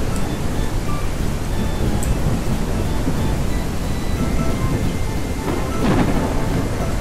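Thunder and lightning in the farming video game Ranch Simulator: a steady, loud low rumble with rain-like hiss throughout, swelling into a sharper, louder crack of thunder near the end, with no voices.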